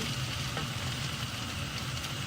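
Steady, quiet sizzling of rice frying in a pan for nasi goreng, a continuous crackle with no talking.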